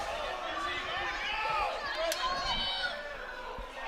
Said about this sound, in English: The crowd has come alive in the last period.